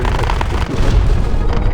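Small bombs explode in a War Thunder Mobile air battle, a dense, loud, close run of overlapping booms and rumbling blasts over a steady engine drone.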